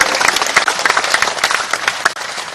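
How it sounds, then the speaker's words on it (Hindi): A crowd at a government ceremony for national highway projects in Madhya Pradesh breaks into brisk, loud applause, dense clapping from many hands over a couple of seconds. "दोनों हाथ उठाकर ताली बजा के उनका स्वागत कीजिए, उनका अभिनंदन"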